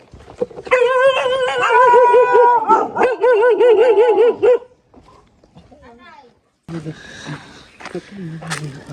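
Three large dogs bark and whimper close by, loud and overlapping, followed by a pause and then more yips mixed with people talking.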